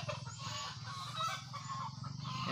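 Poultry calls from chicks kept in a cage, a busy overlapping chorus of clucking and honking fowl sounds, steady and close over the short stretch.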